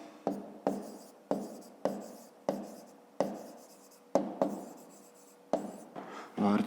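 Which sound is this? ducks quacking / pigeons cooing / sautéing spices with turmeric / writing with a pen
writing with a pen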